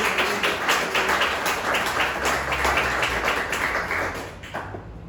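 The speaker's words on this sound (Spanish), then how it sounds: "Denle un aplauso al Señor." A church congregation applauds during a sermon on holiness, scattered close handclaps building into uneven clapping that fades toward the end.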